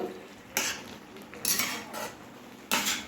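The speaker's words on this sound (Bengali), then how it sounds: "এবারে ঢাকা খুলে ভালোভাবে নেড়ে দেব।" A metal spoon clatters and scrapes against a pot as egg soybean khichdi is stirred after the lid comes off, with a few distinct scrape bursts over a quiet bed, and no talk.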